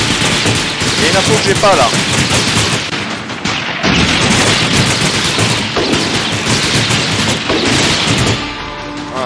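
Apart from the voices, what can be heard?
Gatling gun firing in video game Slaps & Beans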